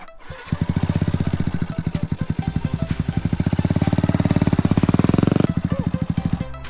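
A motorcycle engine idles nearby with a steady, rapid, thumping pulse that holds for about five seconds and then cuts off abruptly. Faint voices can be heard in the background.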